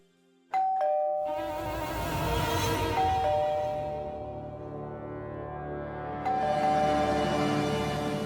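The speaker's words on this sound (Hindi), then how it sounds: "अरे कब से डोरबेल बज रहा है, दरवाजा क्यों नहीं खोल रहा है?" An electronic doorbell chimes loudly with sustained ringing tones, then a second chime sounds again a few seconds later, with no talking.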